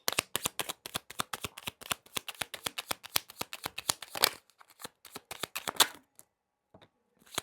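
Tarot cards shuffled close up in a rapid riffling run of sharp slaps that slows and thins into a few scattered final taps before falling silent.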